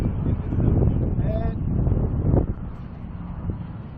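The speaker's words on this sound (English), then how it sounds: "this breeze is steady picking up here in Arizona" Steady wind at an outdoor park launch site in Arizona, set up for a small model rocket launch: a broad low rumble of buffeting against the microphone that eases partway through, with someone speaking over it.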